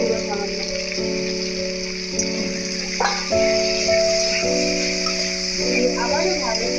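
Green mango pieces fry in oil with salt and a little turmeric, making a continuous sizzle with faint stirring, while a voice or tonal sound hums in the background.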